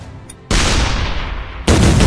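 A tank shot in the video game ShellShock Live, a sudden loud blast that rings out with a long noisy tail, followed by a second sharp explosive burst near the end.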